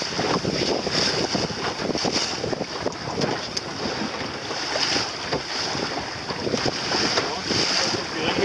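Wind buffets the microphone aboard a small sailboat at sea, with a steady whoosh of air and water along the hull, close and continuous, with faint voices now and then.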